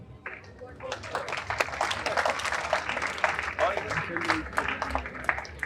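A warm round of applause welcomes guests at a college Women's Day celebration, dense steady clapping from an indoor audience lasting throughout, with a voice briefly audible beneath it.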